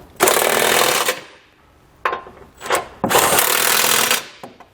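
Factory bolts on a Curt trailer hitch fitted to a 2020 Jeep Grand Cherokee being tightened with a 21mm socket on a power tool, which gives three loud, close bursts of buzzing rattle with brief pauses between them.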